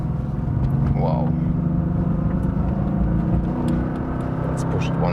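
A Mercedes-AMG GT sports car engine pulls hard on a test drive, a steady close rumble and drone from the cabin with a brief chirp of other noise above it.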